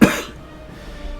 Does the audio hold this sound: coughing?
yes